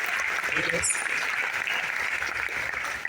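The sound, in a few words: audience applause for first-time guests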